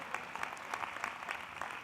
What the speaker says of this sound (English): I'll pause every time for applause.